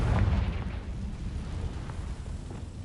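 A Confringo blasting spell explosion in Hogwarts Legacy on PS5 lands as a deep, close boom that rumbles heavily at the start and then fades into a long, low roar.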